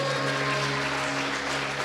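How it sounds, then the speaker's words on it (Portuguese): A church congregation applauds together, a dense, steady wash of clapping from a large crowd, loud and continuous, with a sustained organ or keyboard tone held underneath. "Aplauda Ele."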